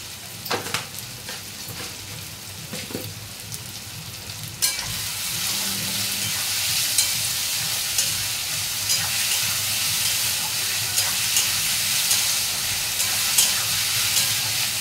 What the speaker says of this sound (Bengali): আমি আর একটা গ্যাস জ্বালিয়ে দিই ডিমটা ভেজে নেওয়ার জন্য।